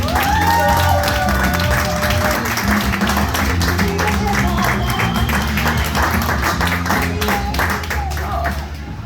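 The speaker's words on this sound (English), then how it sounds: "Give a big round of applause for the very funny Zorba Javon Hughes, everybody." A bar crowd at a comedy night applauds a comedian, loud sustained clapping and cheering over a steady music bed, with some voices mixed in.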